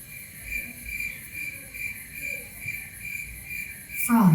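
Crickets chirping at night under open sky, a steady high pulsing trill holding throughout at moderate distance, with a brief louder rustle at the very end.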